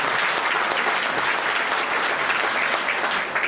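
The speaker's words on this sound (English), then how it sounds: "Let's give them all a round of applause." Steady, full applause from an audience at a human rights commission awards breakfast, loud and continuous throughout with no speech over it.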